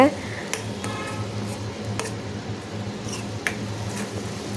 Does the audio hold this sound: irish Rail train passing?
no